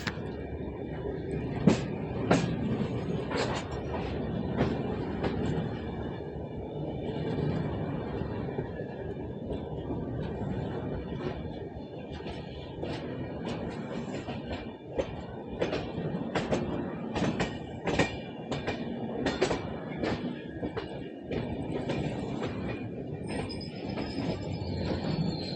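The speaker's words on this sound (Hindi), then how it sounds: "हमारा झांसी जंक्शन पर अराइवल हो रहा है, इस ट्रेन का डिपार्चर हो रहा है।" The Malwa SF Express rolls into Jhansi Junction, a steady rumble of carriages with rhythmic wheel clatter and squeals, heard close and continuous for the whole stretch.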